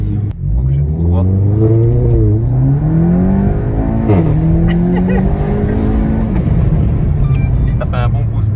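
A VW Golf 7 GTI Clubsport engine revs and accelerates loudly from inside the car, its pitch climbing, dipping with gear changes and climbing again, while people talk over the drone.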